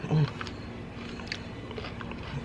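Biting into cooked garlic fresh from the pan, one crisp close bite at the start followed by soft, quiet chewing over low kitchen background.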